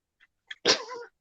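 A single close, loud sneeze, preceded by two faint little intakes and ending in a short breathy tail, in an otherwise quiet room.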